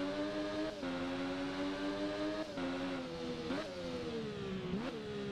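Triumph Daytona 675 three-cylinder sport motorcycle engine in the racing game Ride, droning loud and steady at high revs, with brief dips at gear shifts and a few rising pulls.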